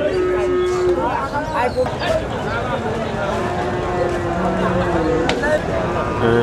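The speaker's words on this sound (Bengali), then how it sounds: "আমরা দেখব কুরবানির জন্য দাতাল ষাঁড় গরু বাজার" Cattle and bulls moo repeatedly at a busy Eid cattle market for Qurbani, several loud drawn-out calls overlapping nearby amid a hum of crowd chatter and voices.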